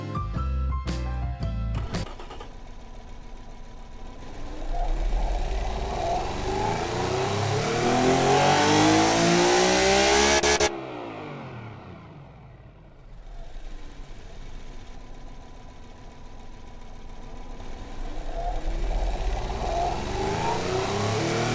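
A powerful V12 car engine in the video game Automation revs up, climbing to a high-pitched roar, cuts off, then drops to idle and builds again; loud and close, with no voices.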